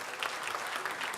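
Audience at a health seminar breaks into brisk applause, many hands clapping quickly in a dense patter that stays steady through the short burst.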